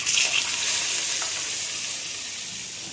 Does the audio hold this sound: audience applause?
no